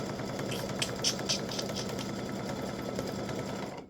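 An embroidery machine stitching a butterflies and hibiscus edge-to-edge design makes a steady, rapid mechanical whirring and ticking close by, with no voices, until it cuts off at the very end.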